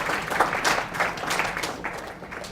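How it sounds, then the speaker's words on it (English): Audience applause at an interprofessional case study event, a moderate spread of clapping heard from a little distance, fairly even with slight swells over its short length. "Let's keep that applause going."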